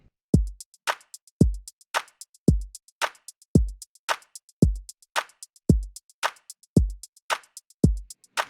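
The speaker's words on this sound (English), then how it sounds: "And then our kick drum, kind of in a loop," A looped kick drum pattern thumps steadily with short, tight hits lacking low-end enhancement, interleaved with crisp hi-hat ticks in an even, repeating groove.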